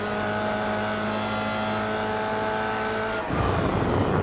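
Formula Vee race car engine held at full throttle in iRacing on the Circuito de Navarra, a steady loud buzzing drone with fixed harmonics for about three seconds before it cuts to a rougher, broadband roar.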